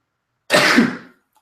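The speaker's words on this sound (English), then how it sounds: "Hold on, let's sneeze." A single sneeze bursts out suddenly and loudly, close to the microphone, lasting under a second before trailing off into silence.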